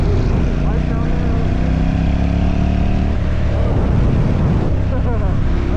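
Motorcycle engine and exhaust while riding, delivering pizza, a steady loud drone with shifting engine tones throughout, close to the rider and continuous from start to end.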